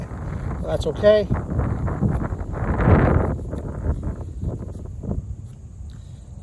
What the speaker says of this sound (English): My curls are blown away from the wind.